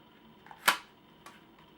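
A Nerf Sharpfire blaster fires a single dart with one sharp, brief snap, followed by a fainter click, heard close up and alone in a quiet room.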